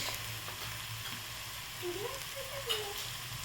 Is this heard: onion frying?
yes